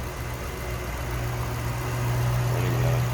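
A 2007 Ford Mustang Shelby GT500 convertible with a 5.4-liter supercharged V8 idles close by, a steady low rumble with a slight rise in level toward the end and no voices.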